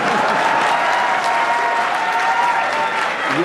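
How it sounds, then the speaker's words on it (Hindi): Loud, dense audience applause at a live music performance at KNIT Sultanpur, sustained steadily from start to finish with no break. "ताली बजाइए।"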